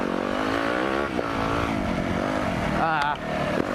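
KTM 350 dirt bike being ridden, a buzzing engine drone that rises and falls with revs, fairly close, with a voice talking over it.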